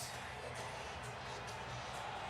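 A boisterous stadium crowd at an NDSU Bison football game in North Fargo cheers in a steady wash of distant, reverberant noise, faint and continuous with no distinct voices.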